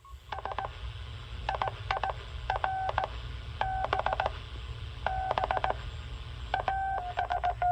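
Morse code CW signal from a Mackay Marine transmitter received on a surplus ham radio receiver, clear keyed tones in rhythmic bursts of dots and dashes over a steady low hum of static.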